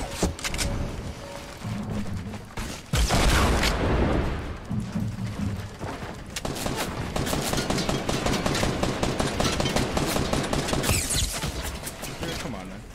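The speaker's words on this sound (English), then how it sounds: "Oh, you just got shot through two walls." Fortnite gunfire punching through walls: bursts of rapid shots, then a long sustained spray of rattling fire, close and loud, with a voice talking over the start.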